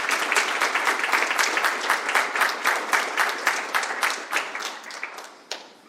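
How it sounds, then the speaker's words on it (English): Sustained applause from an audience at an annual Arizona Trail association meeting, dense steady clapping close by that thins out and fades toward the end. "So can we do just another round of applause for all of you?"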